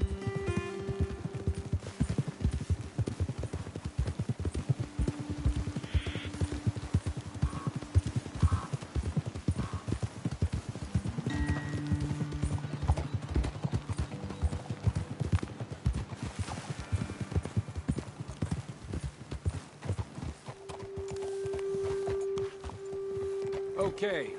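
Horse hooves clip-clop steadily at a walking pace in the Red Dead Redemption 2 video game, with the horses close by. Voices and music-like tones carry on over the hoofbeats throughout.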